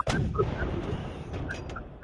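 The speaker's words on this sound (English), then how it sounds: "The cannons overrode your whatever you were saying." A recruiting cannon booms in a sharp burst at the start, followed by a rumbling echo and scattered crackling pops that continue faintly for about two seconds.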